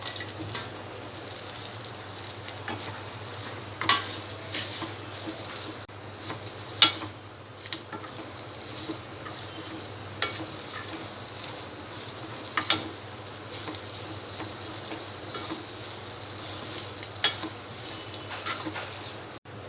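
Fried Chicken 65 tossed with salt and chilli powder in a pan, a soft continuous sizzle with scattered spatula scrapes and clinks at irregular intervals, fairly quiet and close.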